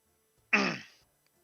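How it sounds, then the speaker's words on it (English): A single short throat clearing, close and fairly loud, a rough half-second burst that drops into silence. "I had to clear my throat"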